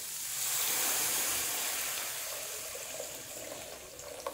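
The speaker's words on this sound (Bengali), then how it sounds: "দেখেন জল দিয়ে দিয়েছি।" Water pouring into a pot of egg soup on the stove, a steady broad hissing splash that swells early and then tapers off gradually, with no one talking.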